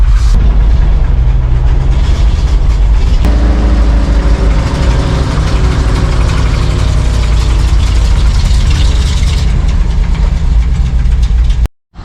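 An old barn-find dump truck engine runs with its PTO engaged, a loud, close, steady mechanical rumble that picks up an added whirring tone partway through, then cuts off abruptly at the end.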